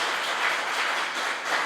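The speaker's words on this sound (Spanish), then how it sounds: "Denle un aplauso a Dios ahora" A church congregation claps in a dense, steady wash of applause that keeps the same level for the whole brief moment, with no voices above it.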